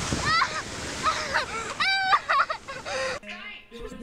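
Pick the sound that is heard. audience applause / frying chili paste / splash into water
splash into water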